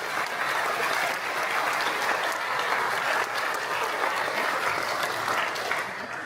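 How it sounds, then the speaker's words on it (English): Audience applause for volunteers at a rocketry launch conference, even sustained clapping from a sizable crowd at constant loudness throughout, tapering only at the very end. "Round of applause for the volunteers."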